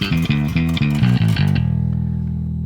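A distorted bass guitar through a hybrid amp and Marshall 4x12 cabinet, similar to a Murder 1 bass tone, plays a short loud riff of several choppy notes, then lets one final note ring out and fade.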